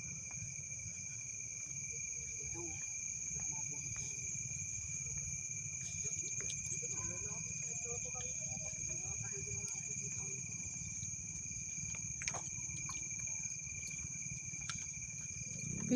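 Crickets chirp steadily outdoors at night, a continuous high-pitched trill running through the whole stretch, with faint rustling and occasional soft murmurs of people nearby beneath it.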